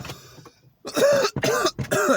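A person coughs hard three times in quick succession, close and loud, after a brief quiet throat noise.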